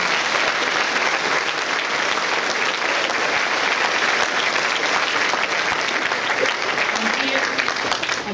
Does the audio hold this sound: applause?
yes